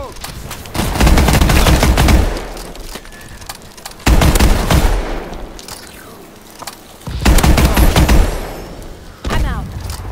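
Gunfire in the video game Call of Duty: Advanced Warfare, infected split-screen mode. Loud bursts of automatic shots and booms come in several clusters with brief lulls between them.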